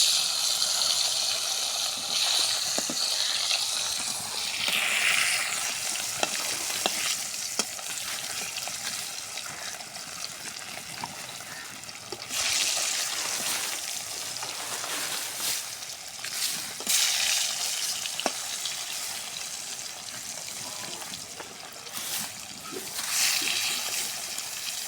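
Fish fry in hot oil with a loud, continuous sizzle and bubbling hiss, close by, swelling at times as pieces shift, with occasional clinks and stirring noises over about twenty-five seconds.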